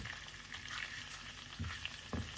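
Onions and a clove of garlic frying in a pan for homemade pasta sauce, a soft continuous sizzle with two low knocks of utensil on pan, no speech.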